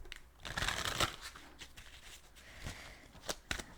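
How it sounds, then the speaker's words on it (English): Tarot cards are shuffled by hand, soft papery riffles and flicks in quiet bursts, close and gentle, with short pauses between shuffles and no talking. "I normally shuffle before I go into it."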